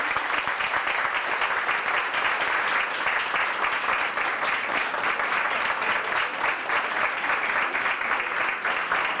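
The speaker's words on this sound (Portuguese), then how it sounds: "Vocês poderiam dar uma salva de palmas para Jesus?" Congregation at an evangelical church service applauding in praise of Jesus, a steady, fairly loud roar of many clapping hands with faint rhythmic pulsing, no talk over it.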